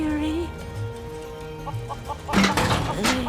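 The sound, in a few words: chickens clucking in video game Final Fantasy VII Rebirth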